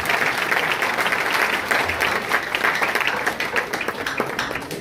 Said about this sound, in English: A round of applause once again for Prof.